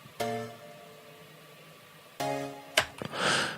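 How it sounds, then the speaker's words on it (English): Flute and harp in a K-pop production, playing two short sustained phrases with soft, breathy tones, separated by a quiet pause, ending with a brighter airy swell. "a flute and harp all the way to the right,"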